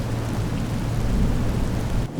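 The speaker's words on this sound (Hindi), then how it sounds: "बारिश एकदम तेज हो गई। कार के शीशे पर पानी की बूंदें तेजी से गिरने लगी।" Heavy rain pours steadily on a car windshield in a dense, unbroken roar, close and loud, like water hammering on glass.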